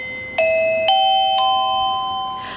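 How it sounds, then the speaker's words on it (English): A plug-in doorbell chime set to a simple tune rings three clear, loud bell notes in rising steps, each tone ringing on, with a faint rustle at the end. "I wanted to show you my doorbell is all set up, so I just plugged it in here, and then I have the little remote"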